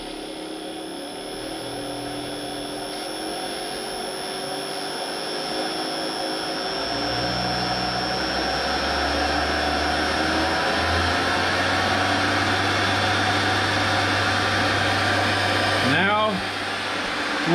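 A centrifuge processing black diesel hums steadily as it spins up and balances out, a continuous machine whine rising slightly in loudness and pitch, with a brief dip near the end.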